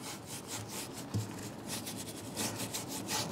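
A paintbrush is pressed hard and rubbed back and forth on painted wooden furniture, such as bedside tables, to build up a patina. The strokes make soft, repeated, scratchy swishes, close and quiet, with no voices.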